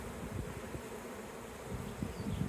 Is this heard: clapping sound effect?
no